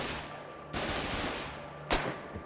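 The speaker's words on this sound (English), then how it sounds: "I could already hear the sound of gunfire coming from the east." Gunfire in the war game Foxhole, sharp bursts of shots coming from a distance, one at the start and another shortly after, with a faint steady hum beneath and no talking.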